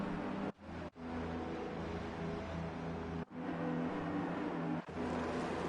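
Race car engines rev together on the starting grid of an F1 racing video game at the United States GP, a loud continuous roar broken by several brief sharp dips.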